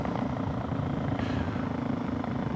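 A brand-new Suzuki DRZ400SM motorcycle running a knock-off FCR 39 carburetor holds a steady, rumbling engine note with even low throb, nearby and continuous, no voices.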